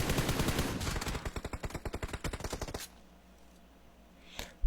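Rapid automatic gunfire from the PUBG Mobile video game: a fast, loud burst of evenly spaced shots lasting nearly three seconds, then a quiet stretch ending in a single short sharp shot.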